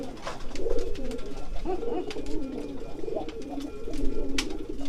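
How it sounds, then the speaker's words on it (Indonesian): A racing pigeon that has just been paired gives repeated low, rolling coos close by, steady over several seconds, with faint background chirps and no talk. "merpati yang kemarin saya baru jodohkan sudah giring"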